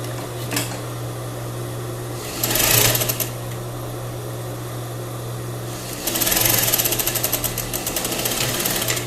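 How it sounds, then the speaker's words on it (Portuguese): Sewing machine stitching crepe bubble fabric for a ruffled blouse, two short whirring bursts of rapid stitching over a steady low motor hum, close and fairly quiet. "Agora eu vou costurar aqui na máquina."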